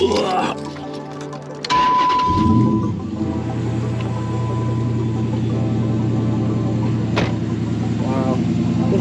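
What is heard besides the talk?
car engine starting and idling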